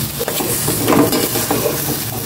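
Pork for adobo fries in a pan, with a steady close sizzle and soft scraping and stirring noises over it, and no voices.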